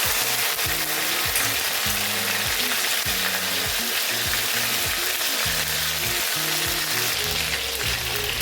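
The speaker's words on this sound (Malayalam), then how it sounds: "പിന്നെ ആ കുറച്ച് ഇഞ്ചി വെളുത്തുള്ളി ചേച്ചാണ് കേട്ടോ അതിപ്പോൾ നന്നായി ഒന്ന് മൂപ്പിച്ച് കൊടുക്കുകയാണ്" Ginger and garlic fry in hot oil in a pan, a steady close sizzle running throughout with repeated scraping stirs and low clunks of a utensil against the pan.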